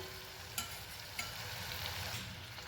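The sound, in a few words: yogurt added to sizzling sautéed guvar in a pan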